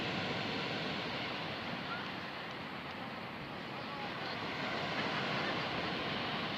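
Steady broadband wash of sea surf along a busy evening seaside promenade, a constant close roar of waves with no distinct breaks, heard alone without clear voices.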